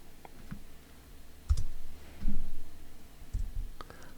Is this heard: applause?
no